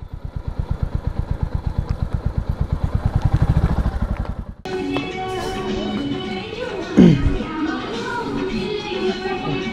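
A motorbike idles with a steady, rhythmic engine pulse for about four and a half seconds, then cuts out at a hillside restaurant cottage in Pokhara, leaving clattery ambient noise and a brief thump.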